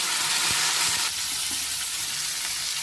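Capsicum sizzling in a pan with onions and partly cooked potato, a dense steady frying hiss with a few soft stirring knocks, close and loud, no speech.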